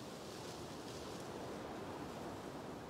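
A waterfall in a video game rushes in a steady, dense, full roar that stays even throughout, with no talking over it.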